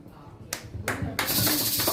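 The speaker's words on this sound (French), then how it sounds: "ça mérite des applaudissements" Applause at a literary café gathering comes in a few separate clap bursts that build into sustained clapping, with talk underneath.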